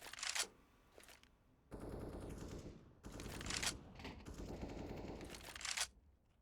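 Rapid automatic gunfire from a Counter-Strike match on Dust 2, with several loud rattling bursts separated by short pauses and a steady low background hum.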